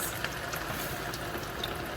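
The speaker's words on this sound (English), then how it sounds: "I have my oil heating up here. I'm gonna go ahead and add my lamb pieces." Lamb pieces flash-frying in hot oil in a pan, a steady low sizzle and crackle with occasional pops, fairly quiet and without talking.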